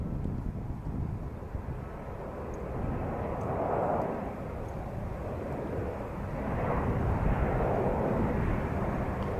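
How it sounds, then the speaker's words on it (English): A KLM Boeing 737 airliner comes in to land from Amsterdam, a distant low jet rumble swelling and fading in waves, mixed with wind buffeting on the microphone. "Coming in now, we have a KLM737"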